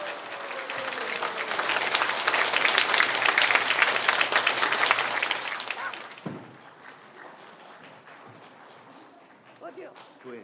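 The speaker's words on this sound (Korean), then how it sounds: "박수 이렇게 해주시면 감사하겠습니다" A church congregation at a Sunday worship service at Myungsung Je1 Church breaks into loud, sustained applause for about six seconds. The clapping then drops off sharply to quiet room sound, with a few faint voices near the end.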